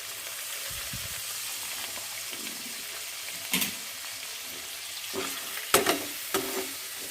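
Pork pieces with salt and turmeric fry in a pan, giving a soft steady sizzle with occasional stirring scrapes and clinks, fairly quiet and close, with no talking.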